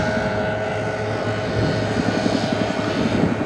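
A Chinook CH-47 helicopter flies past, a steady mechanical drone with a faint rhythmic rotor chop that grows slightly stronger toward the end, with no voices.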